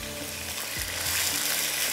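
Qeema bhindi, minced meat with okra, fries in a pan over high heat, giving a steady close sizzle with a soft stirring scrape partway through.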